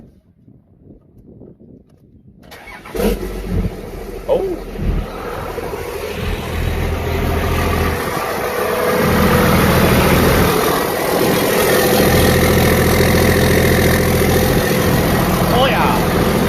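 A 2005 Cummins diesel engine cold-starting with no exhaust fitted: a brief cranking, then a sudden loud rough clattering roar that settles into a steady, harsh idle, close up, with a single short exclamation.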